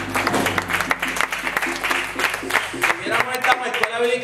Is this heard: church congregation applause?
yes